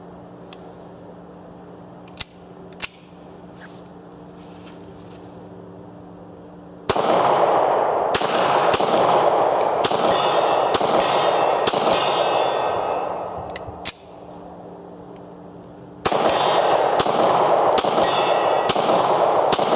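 Beretta 96 pistol with a short barrel and cheap 9mm conversion firing: a few sharp isolated cracks, then two rapid strings of loud ringing shots with echoing tails, outdoors, no talk.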